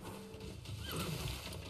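A horse unit in Civilization 6 lets out a short neigh with a rising and falling whinny, moderately loud over a busy game soundtrack.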